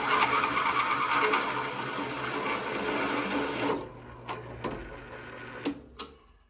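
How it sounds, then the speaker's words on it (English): A sway bar part gets its center hole drilled in a workshop: a steady, loud whirring drill runs for several seconds, then stops, leaving a few sharp clanks and taps of metal handling. "Let's get this center hole drilled"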